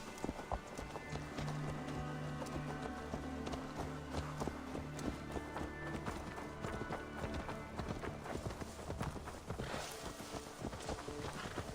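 A horse's hooves clip-clop at a steady walking pace in Assassin's Creed Valhalla, close and continuous over ambient game music and occasional tack rattles.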